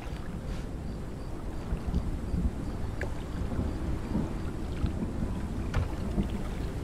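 A storm in the Conan Exiles video game: steady, dense rain hiss with low rolling thunder rumbling underneath, a continuous, fairly loud wash of weather with no voices.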